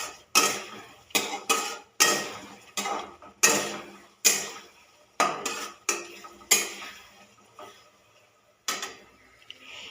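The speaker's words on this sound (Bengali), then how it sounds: "এরপর এর মধ্যে আমরা দিয়ে দেব আগে থেকে ভেজে রাখা আলু পটলগুলি। দিয়ে একটু নাড়িয়ে চাড়িয়ে নেব।" Fried potatoes and pointed gourd stirred in a pan with a utensil, giving a dozen or so sharp scraping and clinking strokes in an irregular rhythm, close and fairly loud, with short pauses between them and no talking.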